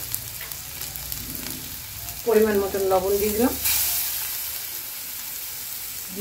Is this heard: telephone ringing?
no